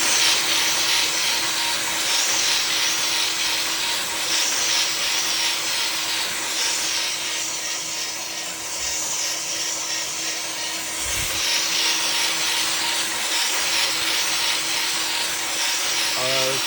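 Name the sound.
3D printer Tricorn hotend extruding filament in flow test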